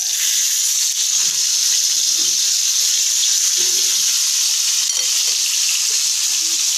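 Ginataang gulay, vegetables and squash cooked in coconut milk, frying in a pan for breakfast: a steady, loud, hissing sizzle throughout, with faint stirring knocks underneath.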